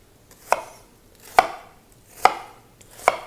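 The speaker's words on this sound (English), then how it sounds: "chop our onion into even pieces" An onion cut into even pieces, heard as four crisp, evenly spaced chops of a knife against a cutting board, close and clear with quiet pauses between them.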